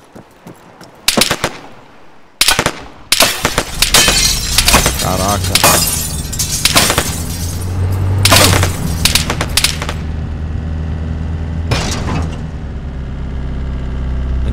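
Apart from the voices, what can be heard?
gunfire in the video game Arma 3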